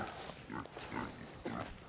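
A crowd of farm pigs grunts and squeals in repeated bursts, close and loud, on a farm where many animals are penned together.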